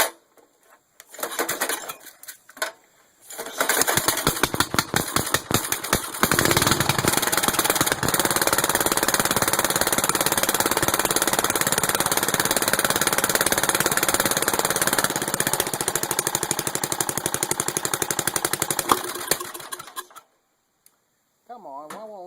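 A small engine on a machine called the Bio Hazard, running after general maintenance with an uncleaned carburetor, sputters to life, then holds a loud, steady, rattling drone before cutting out abruptly; a voice speaks briefly at the end.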